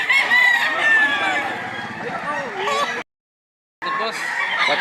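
Fighting roosters crow at a gamecock market in Lipa, Batangas: loud, overlapping crows and clucks fill the air close by, broken by a brief moment of silence before the crowing resumes.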